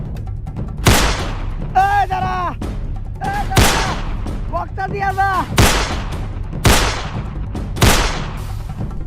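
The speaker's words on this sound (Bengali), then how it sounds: "গুলি কর।" Loud gunshots ring out in a dramatized armed robbery over a box, several sharp blasts spaced irregularly, with shouting voices between them.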